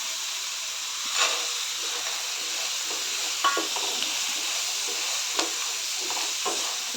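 Lentil sandge roasting with onion and tomato in a pan, giving a soft, steady sizzle and hiss with occasional light stirring scrapes, fairly quiet and with no voices.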